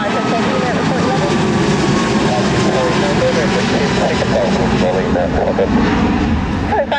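An aircraft landing at Birmingham Airport on runway 15 makes a loud, steady engine roar throughout, with radio voices talking underneath.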